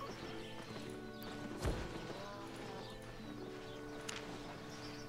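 Horse hooves clip-clopping in a video game, a steady soft rhythm running under game music and ambience, with one louder thump partway through.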